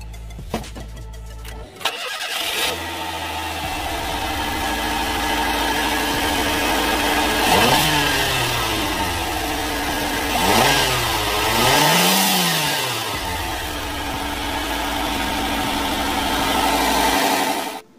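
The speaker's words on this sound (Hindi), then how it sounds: "आइए इसका इंजन स्टार्ट करके देखते हैं।" A 2021 Maruti Suzuki Eeco minivan engine cranks and catches, then settles into a steady idle, with a few light revs rising and falling before it keeps running.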